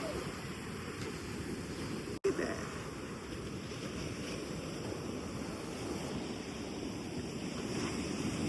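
Ocean surf rolls onto the beach at Assateague Island as a steady, broad wash of waves with wind buffeting the mic and one sharp knock near the start.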